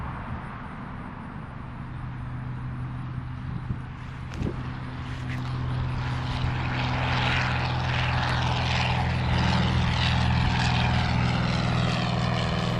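A small propeller airplane takes off from a grass runway at Creve Coeur Airport, its engine drone steady at first and then swelling louder and rougher as power builds, with a faint voice barely there.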